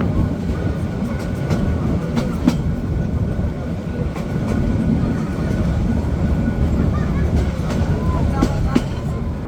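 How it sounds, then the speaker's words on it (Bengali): Sagarika commuter train on the Chandpur to Chattogram line pulling into Hasanpur station, a loud continuous rumble with rhythmic clatter of wheels over rail joints from on board. "ট্রেনটি প্রবেশ করলো হাসানপুরে"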